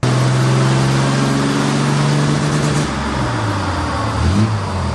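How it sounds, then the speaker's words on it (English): A vintage off-road wrecker truck's engine runs loud and steady on a dyno, holding a strong low drone with rising and falling revs and no one talking. "run it on the dyno again, see if this is better than what we had."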